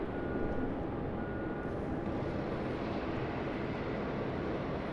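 Air New Zealand Airbus A320neo jet departing Sydney Airport, a steady, broad engine roar that holds evenly throughout, moderately distant with no speech.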